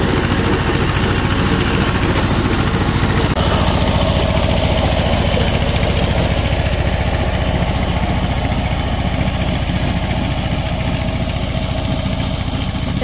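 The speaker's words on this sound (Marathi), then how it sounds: "हे छोटा एक मिनी ट्रॅक्टर आहे." A small mini tractor works a rice paddy field, tilling ahead of transplanting. Its engine runs loud and close with a steady, unbroken chugging hum for the whole stretch, with no voices.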